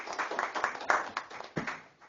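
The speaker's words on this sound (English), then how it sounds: "Let's give him a big round of applause there." Scattered applause from a small audience at a Baker City Council work session, a couple of seconds of uneven, fairly quiet hand claps with a few sharper bursts.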